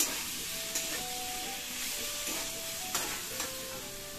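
Sliced pointed gourd (potol) sizzles steadily in a hot pan, a close, even frying hiss broken by a few soft stirring clacks, with a faint tonal hum beneath.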